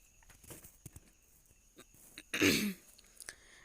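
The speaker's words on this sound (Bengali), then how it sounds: "ভীষণ কাশি হচ্ছে, কাশি পাচ্ছে, গলার মধ্যে কেমন হচ্ছে" A woman at home, about to cook a fish recipe, gives one sharp cough with throat clearing, close to the microphone, followed by a few faint thumps in an otherwise quiet room.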